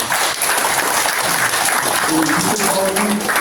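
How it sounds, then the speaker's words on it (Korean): An audience at a Buddhist memorial dharma service applauds, a loud continuous patter of many hands clapping that holds steady throughout, with faint voices underneath. "박수 한번 보내주시죠"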